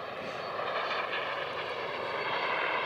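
Jet-powered wingsuit in flight over the English Channel gives a steady, distant engine roar, an even sustained whine and rumble holding constant without breaks.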